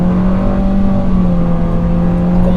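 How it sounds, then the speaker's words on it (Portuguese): Steady, loud engine drone of a Ford EcoSport or Nissan Kicks accelerating hard on a highway to overtake a slow truck, a continuous sustained hum with road noise and no pauses. "vamos aproveitar para fazer aqui a ultrapassagem acelerando tudo"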